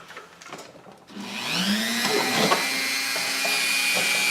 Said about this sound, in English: So I'm just going to give a Dremel and give this a little cut here.